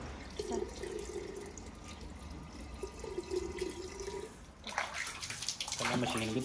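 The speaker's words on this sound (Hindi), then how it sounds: "इहदे च पाउंदे आ हुण पाणी, क्योंकि पाणी गर्म हुंदा रहूगा साडे साग कटदे कटदे।" Water poured into a pot on a wood-fired stove while cooking mustard greens, a steady splashing trickle close by that grows brighter and louder toward the end.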